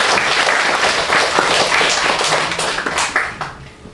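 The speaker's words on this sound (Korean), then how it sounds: "박수 한번 해요." A congregation claps together at a Korean Presbyterian Sunday worship service, producing dense, loud, rapid clapping that carries steadily for several seconds before tapering slightly.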